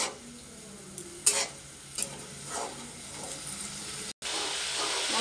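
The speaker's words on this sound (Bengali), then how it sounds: "এবার কষিয়ে নেবো ভালো করে।" Spice paste and salt frying in a pan, a continuous close hiss of sizzling oil with a few sharp spatula scrapes, broken by a brief silent gap before the sizzle returns.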